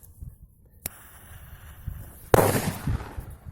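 A Hestia Piratka firecracker bangs once with a sharp, loud blast and a crackling tail, after a faint pop and quiet outdoor background.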